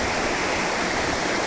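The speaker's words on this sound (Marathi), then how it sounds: "खूप मोठ्या प्रमाणात एकदम खळखळ अशी नदी वाहते" A strong burst of river water near Alvand, Nashik, flowing toward the Vaitarna dam: a loud, even rush and gurgle close by, with no voices.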